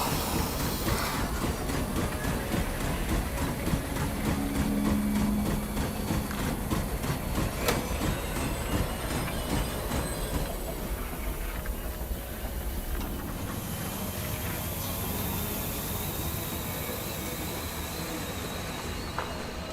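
A train ride in the survival video game The Long Dark: steady rumbling rail noise with a rhythmic clickety-clack and hiss, continuous and moderately loud for the whole stretch.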